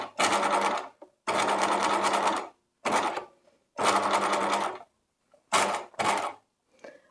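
A domestic sewing machine stitches a straight seam through fabric in several loud, close bursts of steady mechanical whirring, separated by short pauses.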